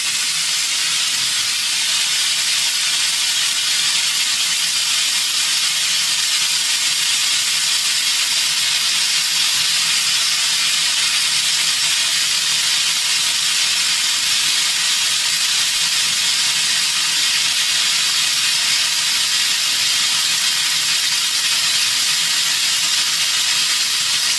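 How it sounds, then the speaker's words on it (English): Steam blasts from a fully opened blow-down valve on a Comel Pratika machine, a loud, continuous, unbroken hiss that holds steady throughout. "And if we open it up, we get full steam."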